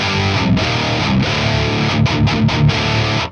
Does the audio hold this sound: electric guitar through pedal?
yes